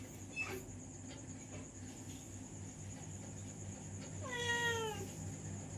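A cat meowing at night to be let through a closed gate, with a faint meow early on and a clearer, louder plaintive meow a few seconds later over a quiet background hum.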